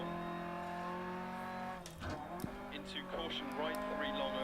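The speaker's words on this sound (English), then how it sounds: "you see we're having a slide there. Rear of the car not gripping" A front-wheel-drive rally car in DiRT Rally slides as its rear loses grip, the engine note holding steady before a scrabbling burst of gravel and tire noise breaks in midway, with engine pitch shifting afterward.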